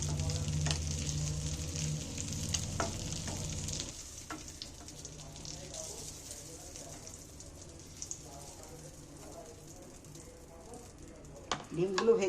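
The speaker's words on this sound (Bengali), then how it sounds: "গ্যাসের ফ্লেম কুড়ি দিয়ে ভাজলে ডিমটা কিন্তু খুব সুন্দর ভাজা হয়" Eggs frying in oil over a gas flame, a steady close sizzle with occasional stirring clatter, louder for the first few seconds then settling to a softer crackle, ending in a brief sharper burst.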